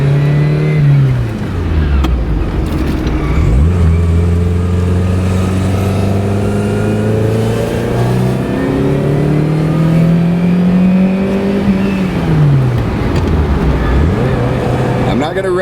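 A Ferrari 308 GTS engine revs and accelerates on a drive, loud and close, with rising and falling pitch through several gear changes and a steady throaty drone between.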